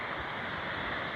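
Ocean waves on a calm day, a continuous broad wash of surf and water noise with some wind rush, steady and unbroken, no voices.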